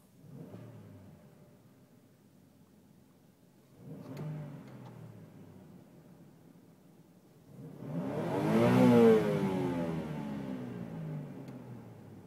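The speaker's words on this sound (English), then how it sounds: "Give you a nice little rev right there." A Chevrolet Trailblazer engine idling quietly, then blipped twice, and finally given a longer, louder rev that climbs and falls back, heard from close by.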